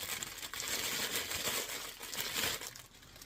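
A plastic bag crinkles and rustles steadily while being handled during a yarn advent box unboxing, a close, continuous crackling with no speech.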